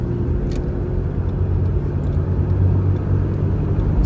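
Steady low rumble of a car engine and road noise from inside a moving vehicle, constant and moderately loud with no talking.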